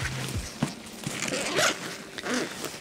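A zipper on a wedding videographer's camera bag is pulled open in several quick, close rasping strokes with short pauses between them.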